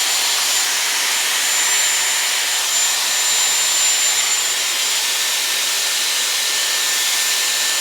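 Dyson Airwrap hair styler blowing air steadily while round-brushing hair, a loud, continuous whooshing roar with a faint high whine, unbroken for the whole stretch with no talking.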